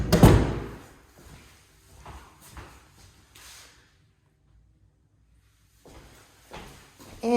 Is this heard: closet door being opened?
yes